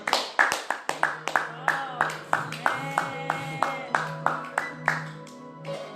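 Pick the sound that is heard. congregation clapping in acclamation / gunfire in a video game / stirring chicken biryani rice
congregation clapping in acclamation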